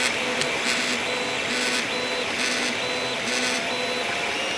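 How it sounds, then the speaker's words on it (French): A Creality CR-10 3D printer runs a print job, its stepper motors whining in shifting tones with repeated short bursts and changes in pitch over a constant fan hum, close and steady. "On reste des heures à regarder son imprimante monter."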